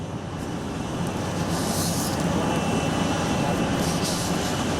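Airliner carrying Pope Francis departing Armenia for Rome, a steady broadband jet engine roar held at constant loudness throughout, with a faint high whine over the top.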